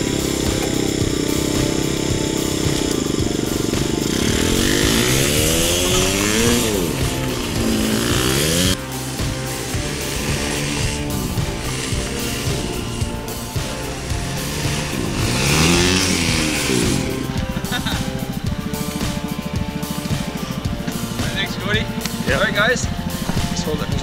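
A revived go-kart's small engine runs during a test spin, a loud buzzing drone that rises and falls in pitch as it revs, with voices speaking intermittently over it.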